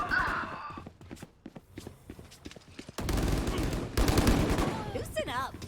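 Gunfire from a gun in a shooter video game: a few scattered shots and clicks, then dense, loud automatic bursts with rapid rattling repeats over the final seconds.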